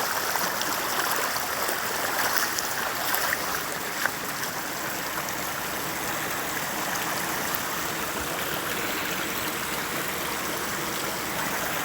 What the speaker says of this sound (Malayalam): കണ്ടോ വരുന്ന വെള്ളം നോക്കി. റോഡാണ് കേട്ടോ ഈ കാണുന്നത്.